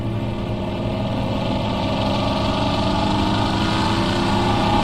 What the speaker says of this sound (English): that sounds like a 6-cylinder Holden